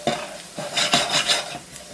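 Flour cooking in oil in a pan for a tuna casserole roux, with a bright sizzle and scraping stirs from a utensil in repeated strokes, close and loud, no talking.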